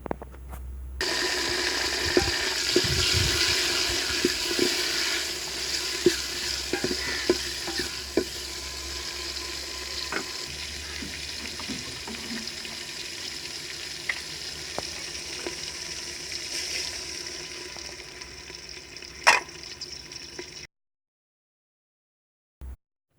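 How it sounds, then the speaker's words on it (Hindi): Green chillies and tomatoes fry in a pan for a simple pumpkin sabzi, a continuous moderate sizzle with repeated spoon scrapes and clinks as they are stirred, ending in a sharp knock followed by silence, with no voices. "अब इसमें सब्ज़ मिर्च और टमाटर डालेंगे।"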